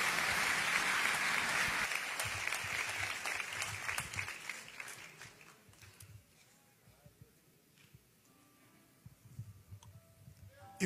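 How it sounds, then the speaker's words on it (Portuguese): Church congregation at an Assembleia de Deus service applauding, a loud sustained burst of clapping that fades over several seconds into scattered claps and room noise. "Esse aplauso é a Deus"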